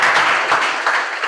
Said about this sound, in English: Can we give him a hand clap?